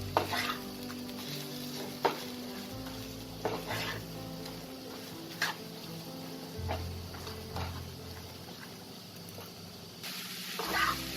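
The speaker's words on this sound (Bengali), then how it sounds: "এটা একদম শুকনো যতক্ষণ না হবে ততক্ষণ আমি এরকমভাবে কন্টিনিউয়াসলি নাড়তে থাকবো।" Chana dal filling for stuffed dal puri is stirred continuously as it fries dry in a pan, with steady scraping and sizzling and a few sharper utensil knocks against the pan through the whole stretch.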